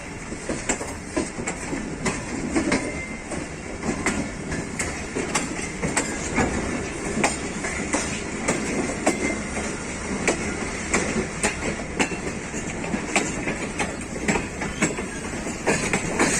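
The Tezgam train of Pakistan Railways runs along the rails, with a continuous loud rumble and regular clickety-clack of wheels over rail joints, recorded close from inside or beside the moving train.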